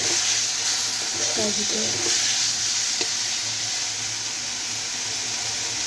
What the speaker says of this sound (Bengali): গরম তেলে পেঁয়াজ বাটা, রসুন বাটা, কাঁচামরিচ বাটা, দারুচিনি, এলাচ সব মশলা একসাথে বেটে তুলে দিতে।